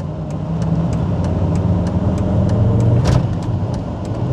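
Lexus GS300 sedan with stuck brakes and no power in the gears, its engine droning steadily and loud throughout as the car drives on, with no talk.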